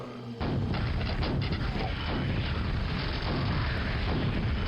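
Rocket explosion in Quake's Dissolution of Eternity expansion, a sudden loud blast followed by a sustained rumbling, mechanical roar that stays dense and steady.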